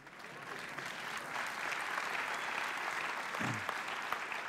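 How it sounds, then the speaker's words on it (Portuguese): Sustained applause from an audience at a talk, a dense, even wash of many hands clapping that holds steady throughout with no break. "É um bom lugar para aplaudir."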